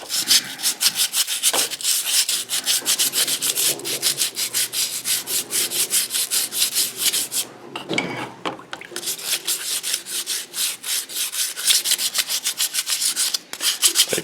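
Close, steady rubbing as a piece of aluminum foil is scrubbed over an old rusty tool, a rapid back-and-forth scraping rhythm that runs almost without break, with one short pause near the middle.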